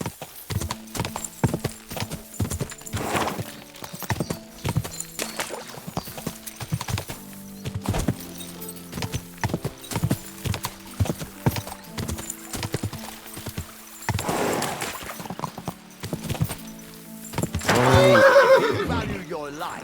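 Horse hooves clip-clop steadily through a medieval scene in Kingdom Come: Deliverance II, with a loud neigh near the end; voices speak over parts of it.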